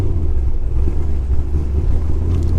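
A cammed manual C6 Z06 Corvette engine rumbles deep and loud while driving, a heavy continuous low-pitched drone with lumpy pulsing throughout.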